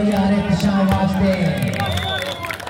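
Spectators at a cricket match clap and cheer after a six, a loud crowd roar with a commentator talking over it.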